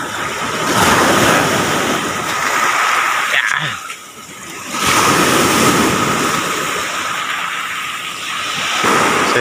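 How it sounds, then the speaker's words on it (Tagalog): Big ocean waves crash in loud, rumbling surges with heavy wind noise, one roaring break fading out before the next swell builds again. "nakikita rin malalaki yung mga alon"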